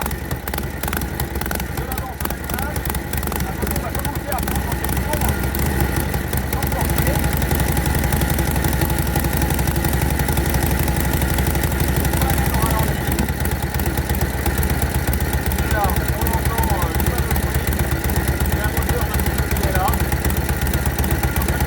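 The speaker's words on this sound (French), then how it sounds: "vous pouvez mettre le contact et faire un premier essai de démarrage" A 1942 Harley-Davidson WLC motorcycle engine starts and settles into a steady, loud idle, its low thrum growing fuller over the first few seconds and holding constant with a rough, throbbing texture.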